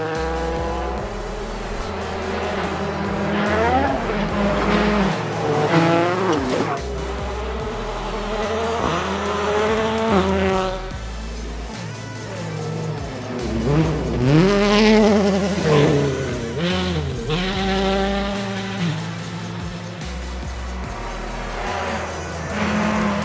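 An M-Sport Ford Fiesta WRC rally car roars past with a loud, rising and falling engine note, sharp gear changes and revving bursts, the buzzing tone swelling and fading several times with no talk.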